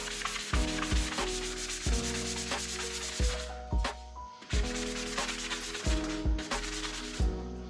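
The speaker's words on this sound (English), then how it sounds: "there was a different sound in the sanding when I got it down far enough. It sounded kind of gritty initially" Hand sanding of car windshield wiper arms, a gritty, rhythmic back-and-forth rasp in repeated strokes, close up and alone, with brief pauses between passes.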